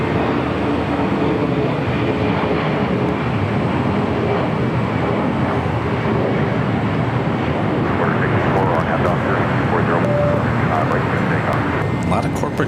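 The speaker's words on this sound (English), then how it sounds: "Take off on 25 right." A jet airliner takes off from runway 25 right at LAX, its engine roar a loud, continuous broadband rumble that swells slightly toward the end, with voices talking over it.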